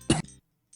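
Two short, close coughs from a character in the Gabriel Knight: Sins of the Fathers adventure game, separated by a brief silence, loud and dry.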